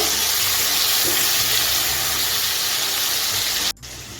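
Spice paste fries on low gas under constant stirring, a dense, loud, steady sizzle that cuts off abruptly near the end.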